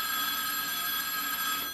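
A telephone rings steadily and loudly in a sitcom scene, a continuous electronic bell tone with no talk over it.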